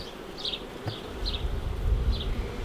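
Carniolan honey bees buzz at an open hive during queen rearing, with a few brief, close, high buzzes of passing bees over a low rumbling background.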